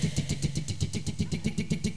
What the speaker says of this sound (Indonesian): Motor di starter.